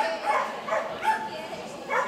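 A dog gives a few short, high yips and whimpers at uneven intervals, fairly faint, with no clear talk.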